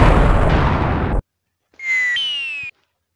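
Cartoon-style video game bomb: a loud, dense burst of noise cuts off abruptly, then after a short silence a bright synthetic warbling tone rises in pitch and holds before stopping.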